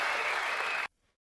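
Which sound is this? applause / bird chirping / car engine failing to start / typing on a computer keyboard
applause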